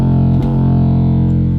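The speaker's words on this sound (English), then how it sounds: "the one that I am gonna apply to this is just a fruity distortion" A heavily distorted 808 bass run through FL Studio's Fruity Distortion plugin, one loud sustained buzzing low tone with a dense harmonic rasp, holding steady throughout with a brief dip near the start.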